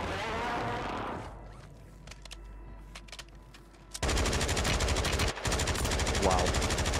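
Automatic gunfire on Rebirth Island in Warzone rattles out as a long, loud rapid burst in the second half, preceded by quieter scattered shots and a voice near the start.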